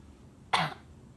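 A patient gives a single short, forceful cough during chest physiotherapy, close and clear against a quiet room.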